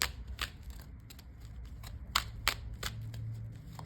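Tarot cards being shuffled, a string of quick crisp snaps and riffles over a faint steady hum, fairly quiet and close.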